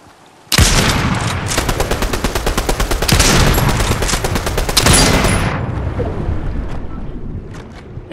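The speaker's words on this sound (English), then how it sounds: "He's gonna start shooting at me." Loud, close automatic gunfire in Fortnite, a dense rapid rattle of shots sustained for several seconds that then fades into a rumbling wash of noise.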